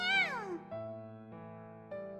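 In the video game You and Me and Her, a voice imitates a cat with one short, bright, falling meow, followed by quiet, steady sustained tones that shift in pitch a few times.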